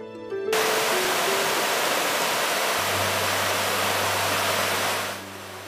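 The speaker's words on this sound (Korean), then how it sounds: "시원하게 흘러내리는 물소리가 긴 여름의 시작을 알립니다." Cool stream water rushes down through a mountain valley gorge, Muju Gucheondong below Deogyusan, as a loud, steady broadband roar that holds constant before easing off at the very end.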